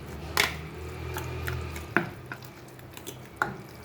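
Goan brinjal bharta is stirred in a pot, a spoon scraping and mashing with soft wet sounds and a few sharp clicks against the side, close and alone.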